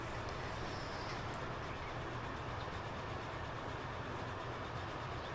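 A steam train, the Flying Scotsman, runs on rails in Transport Fever 2 on the London Kings Cross to Edinburgh route as it nears York: a steady, continuous rolling rumble with faint rail clatter, close and unbroken, with no talk.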